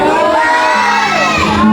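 A church congregation cheers, whoops and shouts excitedly in a loud, sustained burst, many voices blending into one crowd roar.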